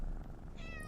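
A cat meows in the open-world fantasy role-playing game Shroud of the Avatar, a short, thin game sound effect that rises late in the moment over a steady low background hum.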